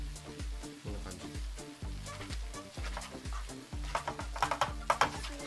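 Fresh yakisoba noodles sizzle and fry in a pan with seasoning and oyster sauce while being stirred and flipped, a close, steady crackle with rhythmic scraping and clattering strokes that grow louder near the end.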